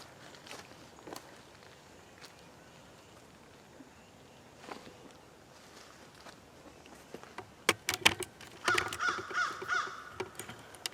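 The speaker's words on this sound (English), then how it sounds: "And that's a crow." A crow caws several times in a quick series near the end, fairly close and clear outdoors, after soft footsteps and rustling in a quiet setting.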